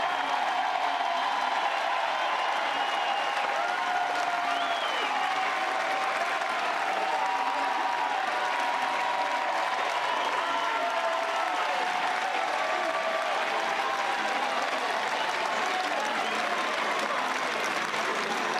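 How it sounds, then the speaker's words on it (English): Home crowd at a Chapel Hill college baseball stadium during an NCAA championship game gives a long ovation, a loud sustained roar of clapping and cheering that holds for nearly twenty seconds with faint voices mixed in. "listen to the ovation from this Chapel Hill crowd"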